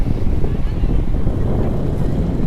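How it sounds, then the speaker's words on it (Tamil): Strong wind gusts steadily across the microphone at a hilltop viewpoint in Erode's hill country, a loud continuous low rumble with no pauses. "ஸோ இப்போ பார்த்தீங்க அப்படின்னாலே காற்று பயங்கரமாக அடிச்சுட்டு இருக்குங்க."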